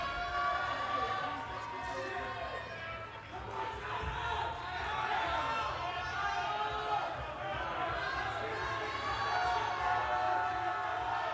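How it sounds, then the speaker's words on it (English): Steady crowd noise filling a men's NCAA gymnastics arena at the ECAC Championships, a dense wash of chatter and cheering that holds throughout at a moderate distance, with commentators talking over it. "everyone's getting so excited. The crowd is loud."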